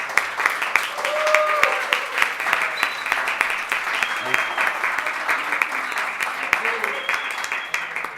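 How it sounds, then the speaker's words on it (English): Audience applause at a youth delegates' election session of a training summit, steady dense clapping from a crowd across the whole stretch, fairly loud and continuous with no talk over it. "she deserves a great applause for her job"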